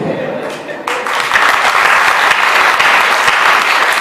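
Loud, sustained applause from an audience at a Ram katha, a Hindu devotional storytelling gathering. The clapping swells after a brief dip and then holds dense and steady throughout.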